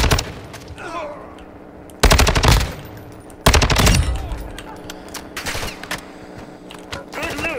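Automatic gunfire in Call of Duty MWII DMZ, loud rattling bursts that cut in abruptly and fade into quieter shooting and game effects, with players talking underneath.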